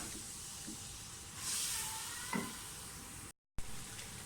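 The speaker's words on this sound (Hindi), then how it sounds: "सारे मसाले अच्छी तरह से भून लें" Spices and tomato paste fry in a pan for a whole green moong dal dish, a steady close hiss and sizzle that swells briefly midway, with one soft knock and a short dropout near the end.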